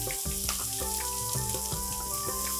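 Finely chopped onions frying in ghee with bay leaf and carom seeds, a steady close sizzle with small crackles and occasional stirring clicks.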